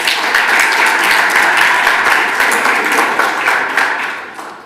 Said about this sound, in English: Big round of applause for Michael, guys.